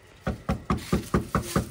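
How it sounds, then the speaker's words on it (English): Seven evenly spaced knocks on a door ring out close and clear, a steady rhythmic series with quiet gaps between each rap. "Knock on the door."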